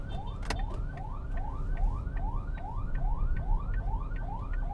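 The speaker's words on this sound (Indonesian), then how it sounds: "di belakang gue ada ambulan yang nggak bisa lewat." An ambulance siren repeats a rapid rising whoop about twice per second over a low engine and road rumble on a narrow road, clear and nearby.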